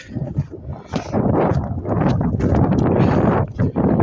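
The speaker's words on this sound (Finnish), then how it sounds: "Aika kova puhina tuolla metsässä, kun siellä 7 metrin sekunnissa tuulee vähintään." Strong wind gusting through a snowy winter forest at about seven metres per second, a loud rushing roar buffeting the microphone in uneven surges with no talk.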